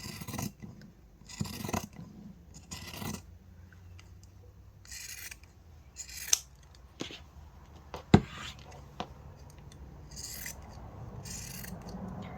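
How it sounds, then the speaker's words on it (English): Scissors trim around the edges of a fabric placemat; quiet, close rasping snips come in short intermittent bursts with pauses between cuts. "we're going to trim along all the way around to the next part of the opening"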